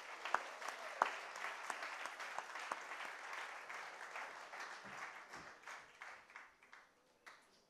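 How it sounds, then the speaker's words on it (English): An audience at Twinkle Khanna's fourth book launch gives a big round of applause. It opens with a couple of sharp claps, swells into a steady ovation, then thins into scattered separate claps as it dies away. "So let's just give a big round of applause to this Renaissance woman."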